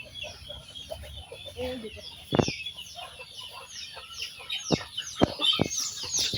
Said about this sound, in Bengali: আর এইখানে দেখেন কত মুরগি